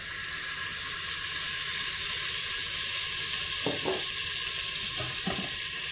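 Grease sizzles and crackles as it heats in the bottom of an Instant Pot, a steady bright hiss that runs the whole time with a couple of soft scraping touches near the end, no talking.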